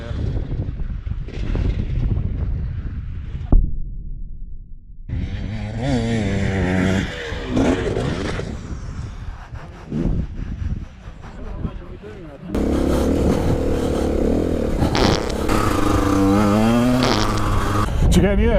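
Enduro motorcycle run wide open on the throttle through a jump at an enduro school in Wales, a loud close engine drone that rises and shifts in pitch with wind noise, then roars harder near the end.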